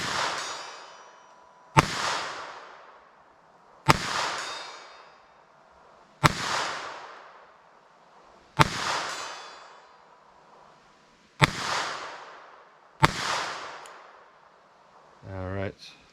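A Beretta Bobcat pistol fires .22 long rifle rounds at a target 75 yards away, with six sharp, loud reports spaced about two seconds apart, each ringing out and decaying into the open air, followed by a brief rustle at the end.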